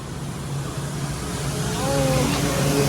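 A car driving on a long road trip, heard from inside as a steady low road and engine rumble that swells slightly, with a faint tonal whine rising toward the end.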